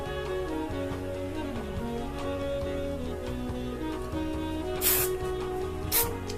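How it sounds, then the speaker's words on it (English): Buildable, brushable hairspray goes onto styled short hair in two short, close bursts near the end, over steady background music. "just hit it with spray"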